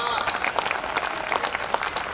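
An audience at a Hindi hasya kavi sammelan comedy poetry show claps in a lively burst of applause, a dense patter of many hands that carries on throughout.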